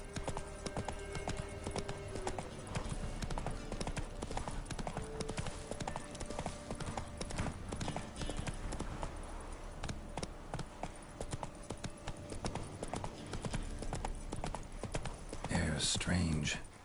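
Roach the horse gallops through The Witcher III, with steady clip-clop hoofbeats running throughout, plus a brief whinny and some game sounds near the end.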